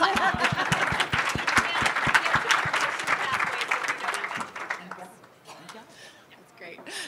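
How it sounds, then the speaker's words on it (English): Audience applause at an education leadership panel, with a few distinct close claps over a dense crowd clapping, fading after about four seconds into quieter room noise and a brief laugh. "Everyone clap."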